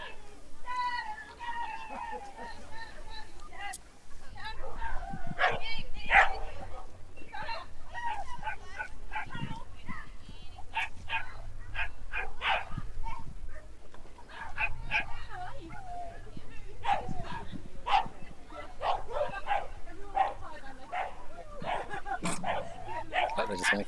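Dog at an agility competition, with yips and barks scattered through the run amid talk and general event noise, the animal excited and fairly close.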